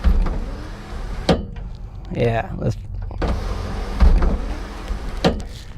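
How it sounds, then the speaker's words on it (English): Electric power sunroof motor on a 1995 Mitsubishi Eclipse with a sunroof that fails to close fully, whirring in short bursts between sharp clicks and clunks, with someone speaking briefly nearby. "It has a powered sunroof. But as you can tell, it does not close all the way."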